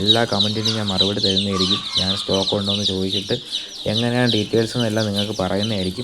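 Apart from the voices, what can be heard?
chicks chirping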